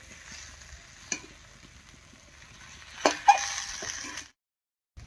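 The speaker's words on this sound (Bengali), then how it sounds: "কচুরমুখি ভাজা হয়ে গেছে" Taro roots (kochu mukhi) being fried and stirred in a pan, with a quiet, steady sizzle, a few sharp clinks and scrapes of a utensil against the pan, then sudden silence near the end.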